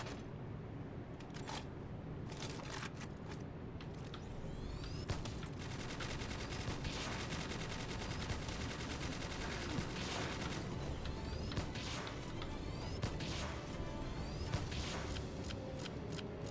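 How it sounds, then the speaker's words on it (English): A laser Gatling gun fires in a video game: rapid, dense bursts of electronic gunfire with sharp repeated crackles and whines, sustained and fairly loud throughout, with no talking over it. "probably smarter to stick or switch to the charge rifle rather than stick to the laser Gatling gun"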